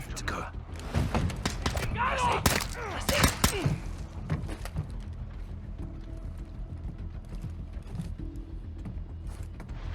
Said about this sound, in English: With a good pair of headphones, each shot really packs a punch.